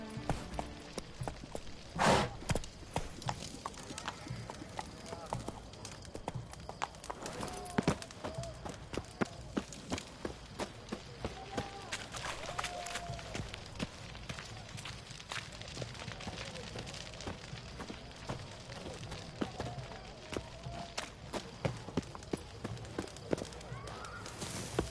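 Geralt's horse Roach gallops in The Witcher 3, with a steady run of quick hoof thuds carrying on throughout, mid-distance and moderately loud, under scattered crackles and occasional talk.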